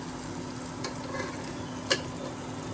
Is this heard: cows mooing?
no